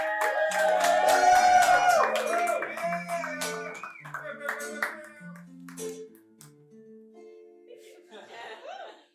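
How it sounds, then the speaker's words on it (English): A comedy show audience claps to welcome a stand-up comic to the stage. Scattered claps come mostly near the start, mixed with laughter and a speaker's voice that dominates, then fade as talk continues. "Guys, get the round of applause going."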